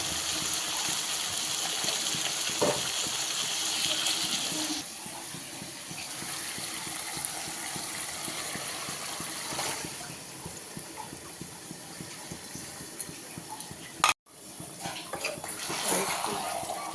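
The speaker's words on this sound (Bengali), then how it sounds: "মশলা ধোয়া জলটা দিয়ে দিলাম" Water used to rinse spices pours into a cooking pot as a steady gush, then quieter sloshing after a drop in level, close by, with a short sharp knock near the end and a voice in the background.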